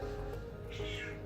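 A cat with arthritis meows once, a short rising cry over a steady low background hum outdoors near Glacier National Park.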